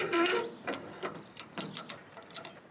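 A MadMan winch ratchet worked with a ratcheting wrench makes close, sharp metallic clicks in irregular bursts with short pauses between them.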